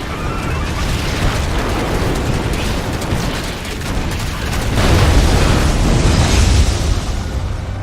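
An Eradicator is destroyed in the StarCraft II game, a loud continuous barrage of overlapping booms and crackling blasts that swells toward the end, with a voice faintly present underneath.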